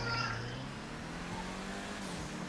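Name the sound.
Ferrari engine revving in GTA 5 video game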